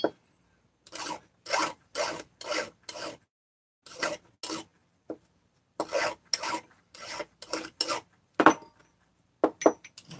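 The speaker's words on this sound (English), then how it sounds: "Just taking the burrs off." Metal tool kit parts being filed to take off burrs, with repeated short rasping strokes in uneven bursts and pauses, close and fairly loud against near silence.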